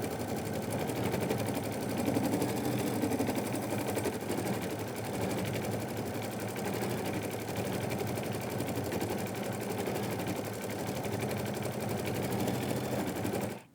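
A sewing machine runs continuously during background quilting, a steady fast whirring stitch that holds at an even, close level from start to finish with no talking.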